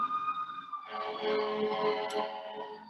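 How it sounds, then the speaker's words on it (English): An ambulance siren sounds as the vehicle drives past outside, a wailing tone that swells and stays loud through most of the short stretch. "There's an ambulance driving by here at Stewart, so I'm going to let that pass."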